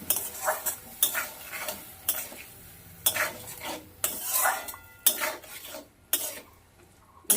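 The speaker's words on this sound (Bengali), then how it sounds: "টমেটো কেটে রেখেছি দিয়ে দিলাম পরিমাণ মতন হলুদ দিয়ে দিলাম পরিমাণ মতো লবণ দিয়ে দিলাম সবকিছু দিয়ে ভালো করে কষাবো" Tomato masala with turmeric and salt being sautéed in a pan over a medium flame: repeated scraping and stirring strokes with clinks of a utensil against the pan over a soft sizzle, close up, with no talking.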